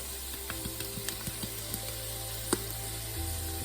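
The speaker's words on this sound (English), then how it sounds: "And now adding dry garlic powder" Dry garlic powder sizzles steadily as it hits onions and carrots in a hot pan, a continuous close frying hiss with small crackles and one sharper pop, no talking.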